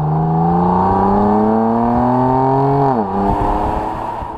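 A 2015 BMW M3 sedan in Sport Automatic pulls hard with a loud, steady engine drone rising in pitch, then a quick dual-clutch upshift drops the revs before it climbs again, heard close without talking.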